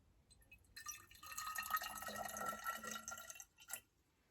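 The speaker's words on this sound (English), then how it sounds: "So I'm just going to tip some water in." Water tipped into a glass bottle being tuned as a musical note, a faint trickling pour lasting a few seconds with a gurgle toward the end, close and quiet without speech.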